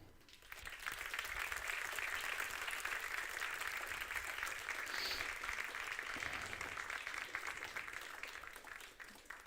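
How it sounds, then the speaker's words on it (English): A graduation ceremony audience at a football business academy gives a sustained, dense round of applause that swells in quickly and holds strongly for about nine seconds. "Please join me in giving them a warm applause."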